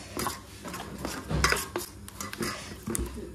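Gram flour batter being mixed with water and baking soda in a bowl, a utensil clinking and scraping against the sides in short uneven strokes, fairly close and moderately loud with no talk.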